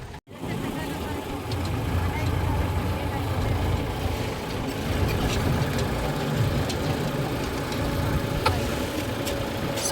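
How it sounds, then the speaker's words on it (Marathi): A tractor engine runs with a steady, moderately loud rumble while riding through a village toward a potato field, and the drone holds constant throughout. "मंडळी ट्रॅक्टरमध्ये बसून चालले शेताकडे"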